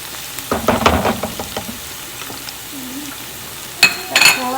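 Garlic frying in hot cooking oil in a pan, with a burst of crackling sizzle and stirring scrapes at the start, a quieter stretch, then fresh loud spatters of frying near the end.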